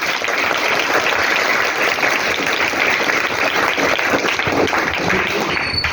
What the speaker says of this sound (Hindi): सभी बच्चों से चाहूंगा कि जोरदार तालियों से स्वागत करें